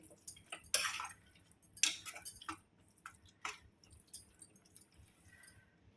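A spoon clinks and scrapes against a pan as soaked chana dal is stirred into gongura chutney, giving scattered close, quiet taps and short scrapes with no talking.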